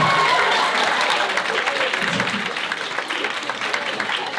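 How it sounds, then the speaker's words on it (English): An audience at a debate lecture claps in a dense, sustained burst of applause that fills the room and slowly thins out toward the end, with no clear voices on top. "you keep clapping when it's not debate related"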